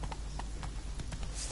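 Roach the horse gallops in The Witcher 3, a quick run of hoof clops in an uneven rhythm over a steady low background hum, with no voices.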